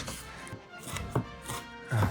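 A knife chops through an onion on a cutting board in a few uneven strokes, with three firmer cuts landing near 1.2, 1.6 and 2 seconds over a steady background hum.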